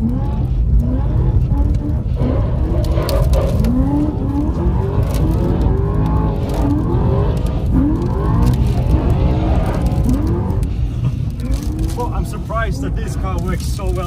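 Two BMW M3 E92 cars on spiked tires drift through snow with engines revving and surging in rising and falling howls, close and loud, while people talk over the noise.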